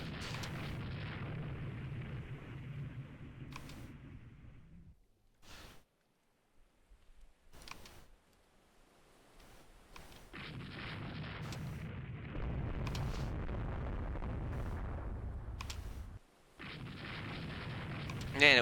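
Naval shell hits and explosions in the Rule the Waves 2 warship game, heavy rumbling booms broken by short silent gaps, with someone talking over parts of it.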